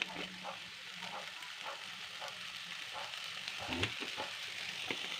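Seasoning sizzling as it is stir-fried in a hot pan, a steady close hiss with scattered crackles and occasional scraping stirs, fairly quiet and even throughout.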